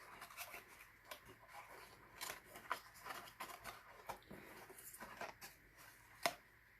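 Scissors snipping paper while a sticky note cube holder is being made, a series of soft, irregular close cuts with light paper rustling between them, quiet with no talking.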